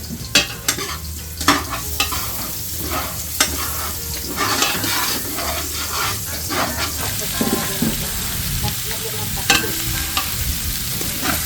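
Garlic browns in hot oil in a pan, giving a steady sizzle under scraping stirs and irregular clinks of utensils, with occasional sharper taps nearby.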